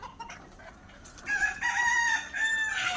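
A rooster crows once, close and clear, a long drawn-out call that follows a few soft clucks and rustling.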